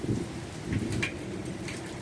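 A September thunderstorm in Quartu Sant'Elena, Sardinia: a continuous hiss of heavy rain, with low thunder rumbling and swelling beneath it. Moderately quiet and steady throughout, with no talking.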